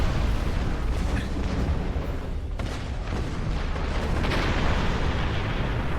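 Torpedo explosions during a space dogfight in Star Trek Online, a continuous roaring, rumbling blast texture with a few louder booms layered over steady game noise.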